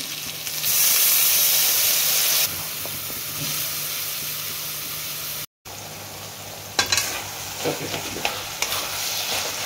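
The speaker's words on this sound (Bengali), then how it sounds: "এবারে একটু জল দেবো, একটু জল দিচ্ছি" Water poured into a sizzling pan of boiled potato curry, a loud burst of hiss and bubbling followed by steady frying noise and clattering spatula strokes as it is stirred, with no talking.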